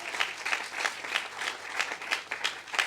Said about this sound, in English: let's clap for